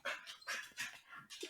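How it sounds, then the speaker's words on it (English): A pet dog whimpers faintly in a room, a string of short high whines and soft yelps coming in quick bursts, distant and quiet, with no one speaking. "Oh, sorry, my dog. We're getting a cameo in this episode."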